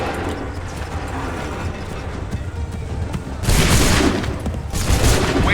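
A volley of musket gunfire in the Assassin's Creed III video game: steady battle din builds, then two dense bursts of massed shots erupt loudly, each lasting about a second.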